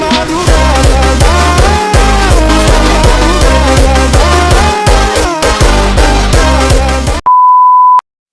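A single steady electronic notification beep tone sounds clearly for about a second, right after loud music cuts out, then stops abruptly.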